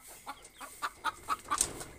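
A hen clucking nearby at an early-morning farmyard: a quick series of about seven short, soft clucks in an even rhythm, ending with a slightly sharper note.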